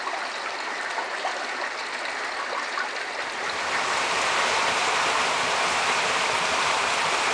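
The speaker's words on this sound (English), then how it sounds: "you can hear and kind of see the water rushing through" Creek water rushes steadily through a canyon, a broad continuous roar that grows fuller and louder about halfway through, with no voices over it.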